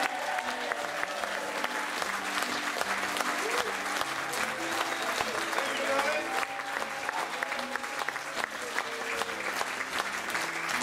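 Sustained applause from a crowd at a live folk music gig, dense clapping filling the whole stretch without pause, with some voices mixed in.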